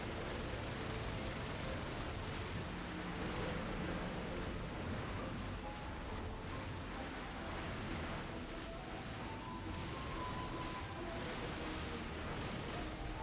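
A waterfall in Bayonetta Origins: Cereza and the Lost Demon gives off a steady, full broadband roar of rushing water that stays constant and loud throughout, with no speech over it.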